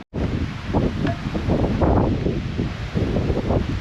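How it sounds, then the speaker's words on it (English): Strong, steady wind buffets the microphone on the shore of Lake Michigan, a loud continuous roar with gusting surges and no speech. "I will say this wind is atrocious."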